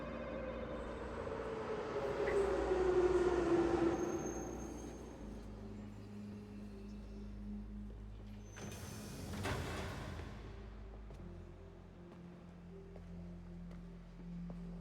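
In Assassin's Creed III Remastered, a train at a station rumbles and whines down in pitch as it brakes, followed by a mid-clip whoosh and a low steady drone.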